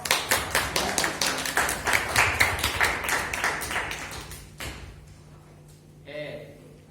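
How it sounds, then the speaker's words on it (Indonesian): A classroom group claps for a student group, a brisk burst of many hands for about four seconds that then fades out, followed by a brief voice speaking. "Ya, tepuk tangan untuk kelompok."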